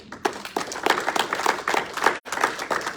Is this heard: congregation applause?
yes